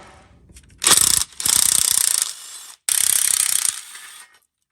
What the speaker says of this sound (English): Let's get those 10mm bolts off that panel